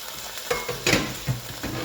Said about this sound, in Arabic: شوفوا اللحم ديالنا هو البنات تحمرها